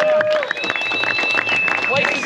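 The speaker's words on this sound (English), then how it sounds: "Can I get another huge round of applause for all our staff and volunteers" A crowd at a motorsport event claps and cheers for staff and volunteers, busy applause mixed with voices and a sustained whistle, fairly close throughout.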